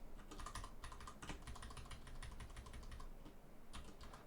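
Rapid, uneven typing on a computer keyboard with an awkward layout, a dense run of close clicking keystrokes with a short pause near the end, heard alone.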